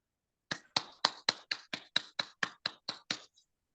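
About a dozen crisp, evenly spaced hand claps ring out close and loud over silence, each one sharp and distinct, at a business leadership presentation.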